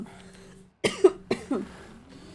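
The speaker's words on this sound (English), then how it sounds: "Oh, this cough" A close burst of several harsh coughs in a row, each one sharp and throaty, with a low background hum.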